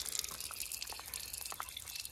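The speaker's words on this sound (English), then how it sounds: "And I have a tap right in there, and let's just turn that on." Water runs from a gravity-fed rain barrel tap, a faint close trickle with scattered small splashes and drips, alone without talk.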